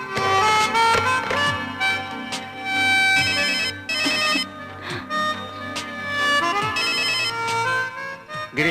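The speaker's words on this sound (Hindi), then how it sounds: "गिरीश फोन नहीं उठा रहा है।" A phone rings repeatedly over a dense, melodic background, with a bright electronic ringtone pattern that keeps going throughout.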